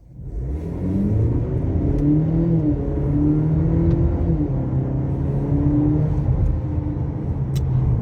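A 2021 Cadillac CT4 pulls hard under acceleration, its engine note rising in a steady, loud, smooth drone heard from inside the cabin for several seconds, with no talking.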